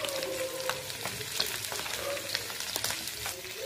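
Coriander powder, red chilli and Kashmiri chilli powder sizzle and fry in hot oil for jackfruit curry, with steady crackling and repeated scraping strokes of a spoon stirring the pan, close and alone without talk.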